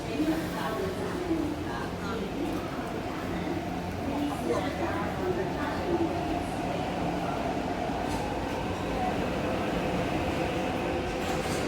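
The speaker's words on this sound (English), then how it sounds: "When the train comes in, you can clearly see the trains actually keep on going." A metro train rumbles steadily through Ma On Shan Station, with low continuous mechanical noise and faint voices in the background.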